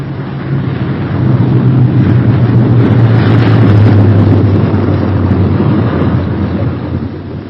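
A B-17 Flying Fortress bomber with one dead left inboard engine comes in to land, its remaining piston engines giving a loud, steady low drone that swells in the middle and eases toward the end, with no talk.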